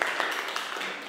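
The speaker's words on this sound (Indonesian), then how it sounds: "Tepuk tangan." Applause from a classroom group of students, a short burst of dense, steady clapping close by.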